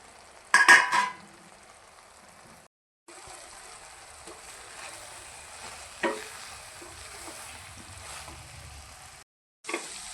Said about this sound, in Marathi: चला तर मग फ्राय केलेली भेंडी याच्यामध्ये मिक्स करून घेऊया.